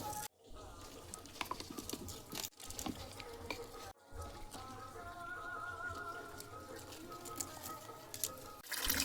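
Water runs into a container being filled to water cucumber plants in a garden, a steady splashing patter that lasts throughout with a few brief breaks.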